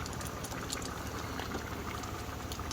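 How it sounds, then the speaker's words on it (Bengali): Catfish curry bubbles in a wok, a dense continuous simmering crackle and gurgle held close and steady throughout, with no voices. "থাক, এভাবে ফুটুক কিছুক্ষণ।"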